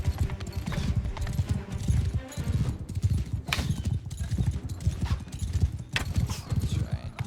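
Horses gallop in the Mount & Blade II Bannerlord video game during a night charge, a steady rolling clip-clop of hooves with battle noise and occasional neighs, while a person talks over it.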